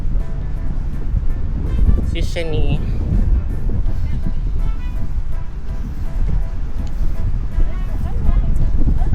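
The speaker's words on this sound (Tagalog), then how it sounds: "Oh my God, sobrang hangin, guys." Heavy wind at a beach rumbles and buffets the microphone, constant and loud, while a voice speaks briefly near the start.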